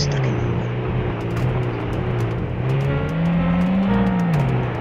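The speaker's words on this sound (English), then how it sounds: "this underpowered engine sucks" Underpowered truck engine revving steadily while hauling a load in a driving video game, a continuous near drone whose pitch climbs and dips with the throttle, with no talking.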